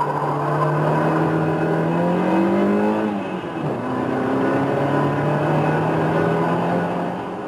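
A Renault 11 Turbo runs hard on a test track, its engine loud and close, climbing through the revs in a rising whine, dropping briefly at a gear change, then pulling up again.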